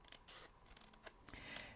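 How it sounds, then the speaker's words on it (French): Scissors snip paper for a pop-up card in several short, crisp cuts, faint and close, with no talk. "sinon vous prenez votre paire de ciseaux"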